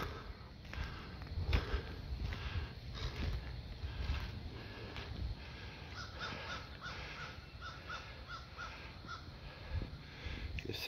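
Crows cawing at a bald eagle perched in a tree, repeated harsh caws in uneven bursts from several birds, moderately distant over quiet outdoor ambience with faint footsteps.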